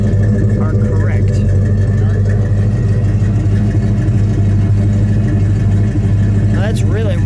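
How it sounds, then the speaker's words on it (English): A 1967 Plymouth Belvedere GTX with a 426 Hemi V8 and four-speed idling, a steady deep lumpy rumble held close, with a person speaking briefly over it. "Let me listen to that idle."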